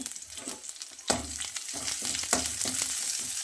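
Crushed garlic fries in oil with a seasoning of mustard seeds and curry leaves, giving a steady close sizzle broken by scraping stirs and soft knocks from the pan.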